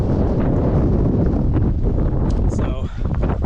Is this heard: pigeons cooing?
no